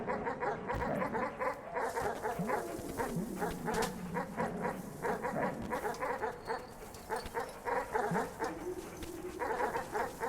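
Dogs in the video game Animal Well barking in a dense, continuous pack, with rapid overlapping yaps and growling rumbles throughout, moderately loud, with no talk.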